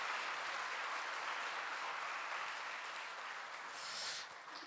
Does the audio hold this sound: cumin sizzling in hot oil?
no